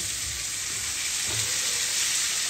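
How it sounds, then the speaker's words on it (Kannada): Onion and tomato fry in a pan for tomato soup, giving a steady, even hiss of sizzling oil close by with a faint stir partway through and no voices. "ಇದನ್ನು ಒಂದು 2 ನಿಮಿಷ ಈರುಳ್ಳಿ ಟೊಮ್ಯಾಟೊ ಎಲ್ಲ ಹಸಿ ವಾಸನೆ ಹೋಗೋವರೆಗೂ ಇದನ್ನು ಫ್ರೈ ಮಾಡ್ತಾ ಇದ್ದೀನಿ"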